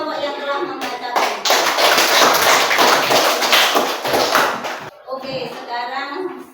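Students in a classroom applaud three reading groups with a loud, dense burst of clapping lasting about three and a half seconds, with voices talking just before and after.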